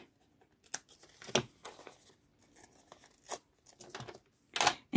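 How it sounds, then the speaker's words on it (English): Scissors cutting paper for an envelope writing journal with tab binding, short crisp snips and rustles scattered irregularly at close range, fairly quiet against a silent background. "I'm gonna get up my scissors. I'm gonna cut off this"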